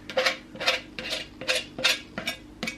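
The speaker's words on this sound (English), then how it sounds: "And just give it a big mix round." A spoon stirs grated cheese into cheeseburger spring roll filling in a bowl, about seven rhythmic scraping strokes, close and moderately quiet, with no talking.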